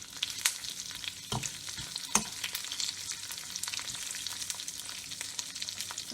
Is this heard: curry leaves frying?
yes